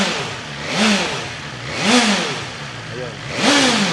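A BMW S1000XR motorcycle engine with a new exhaust revs repeatedly toward 6,000 RPM, three loud rising-and-falling blips close by, each climbing and dropping in pitch.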